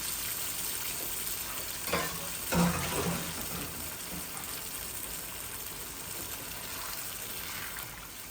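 Water pours and splashes into a hot pan of baby chicken cooking with potatoes, running steadily for several seconds with a fainter sizzle beneath and a brief louder slosh near the middle.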